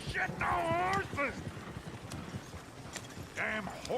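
Hooves clatter rhythmically from galloping horses in the Red Dead Redemption 2 video game, steady beneath loud shouted voices and brief animal yelps.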